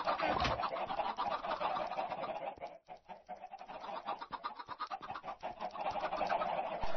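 Chickens cluck and chatter continuously in a Minecraft world, a dense, fairly loud flock with a brief lull partway through, and no talk.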